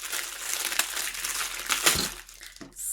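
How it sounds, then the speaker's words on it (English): Thin plastic packaging around a resin mould crinkles and crackles as it is pulled open by hand, a steady close rustle with a few sharper crunches and no talking. "Let's get it out of its packaging."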